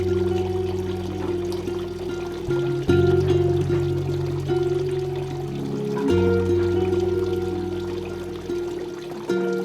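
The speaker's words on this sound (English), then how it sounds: "It's a pleasure garden, so you have the sound of water" Continuous flowing water pouring and trickling in a pleasure garden, steady and fairly loud, with a constant splashing texture and no voices.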